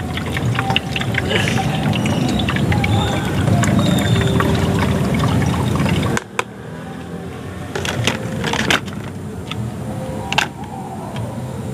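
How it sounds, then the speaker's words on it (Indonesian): Two liters of liquid leaf-compost water pour through a filter into a two-liter container, a steady close splashing for about six seconds, then quieter trickles and scattered handling sounds. "Seperti ini kita tuangkan aja, karena ini airnya 2 liter dan tempatnya juga ukuran 2 liter ya teman-teman."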